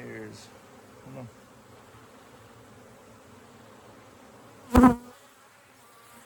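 Honeybees hum around an open hive box, a low, faint, steady drone with a brief close buzz or bump partway through and a few quiet spoken words.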